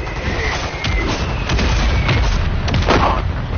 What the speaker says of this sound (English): Mortar strike is inbound.